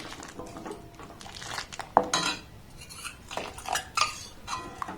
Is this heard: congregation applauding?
no